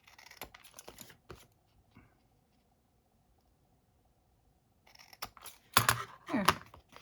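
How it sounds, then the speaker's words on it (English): Scissors snip the corners off a recycled file folder Christmas tag in a few quiet crisp cuts, first a brief cluster of clicks, then a pause of near silence, then louder snips and rustling of paper. "I'm just going to take my scissors"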